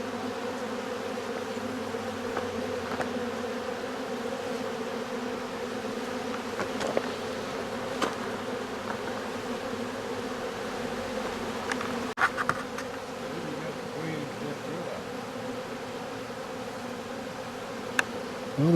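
A wild honeybee colony taken from an old hickory log drones in a dense, continuous buzz close by as the bees funnel into a box, with a few louder individual bees passing near.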